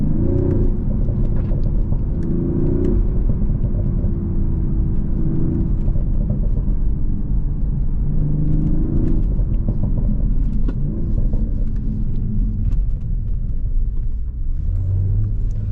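A 2025 BMW Z4 M40i convertible driving on the road, its steady engine rumble and low drone close and continuous, with slight rises in pitch as it accelerates and no talking.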